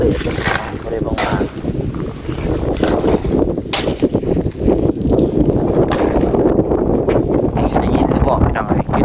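Strong gusty wind buffets the microphone outdoors in rural Thailand with heavy roaring rumble and sharp bursts, continuous throughout, while someone talks at times beneath it.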